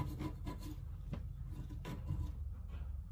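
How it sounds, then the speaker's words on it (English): Old paint is scraped off a Toro TimeCutter Z5000 zero-turn mower blade in quick, rhythmic, gritty rasping strokes, close by and fairly quiet, with no voices. "in the couple of seconds I worked on this thing, scraping it, you get the old paint off"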